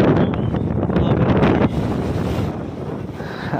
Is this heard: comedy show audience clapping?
no